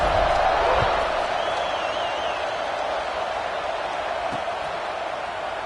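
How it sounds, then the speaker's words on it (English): A college football stadium crowd in a USC versus Missouri game buzzes after a score, a steady broad roar that fades slightly over several seconds. "this crowd is buzzing after that last score"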